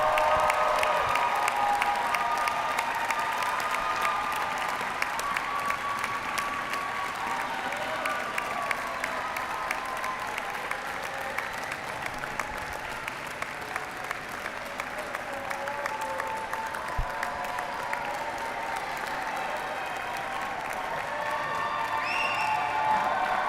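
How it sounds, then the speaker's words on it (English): Sustained audience applause at a medical school commencement ceremony, a broad dense wash of clapping from a large crowd that holds steady for over twenty seconds with a few faint cheers mixed in. "give them a round of applause."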